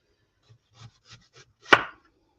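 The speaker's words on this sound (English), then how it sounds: "I always get to like this part of the onion, and then I just thinly slice" A knife thinly slicing onions for caramelising on a cutting board: a few soft, light cuts in quick succession, then one louder, sharper chop, close and with no talking.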